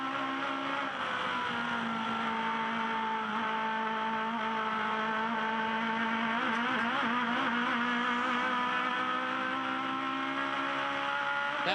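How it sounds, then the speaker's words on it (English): An Aussie Racing Cars race car engine holds a steady high-revving drone from onboard at a Queensland circuit, with pitch wobbling as the car rides over track bumps, loud and continuous without any talk. "Listen to the engine RPM."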